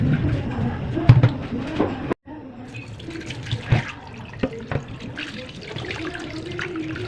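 Running tap water splashing steadily as a tilapia is rinsed by hand in a sink, continuous and close, with a brief break midway and a voice talking over it at times.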